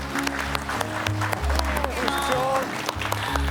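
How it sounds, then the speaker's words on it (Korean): A Korean TV studio audience applauds to welcome a guest, steady clapping over a loud, sustained low music bed with melodic tones, continuous throughout. "유홍창 선생을 여러분 박수로 맞아주시면 고맙겠습니다"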